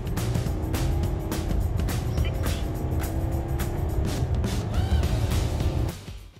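A Mercedes-Benz GLC 220d AMG Dynamic diesel turbo SUV drives on the road, with a steady low engine and tyre rumble heard from inside the cabin that fades out at the end.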